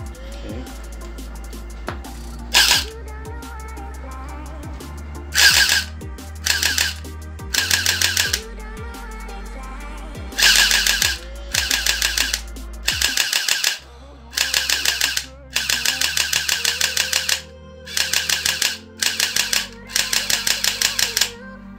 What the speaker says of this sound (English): This is the main gearbox with the motor that blows the balls through the front barrel.